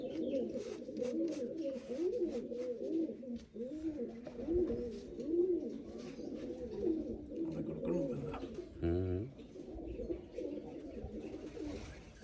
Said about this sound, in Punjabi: ਸਾਰੇ ਕਬੂਤਰ ਉੱਡ ਕੇ ਹੀ ਆਏ ਆਪਣੇ